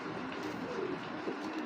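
A racing pigeon, a female of the 24 line, coos softly amid a steady low murmur of other birds in a loft, the calls faint and continuous.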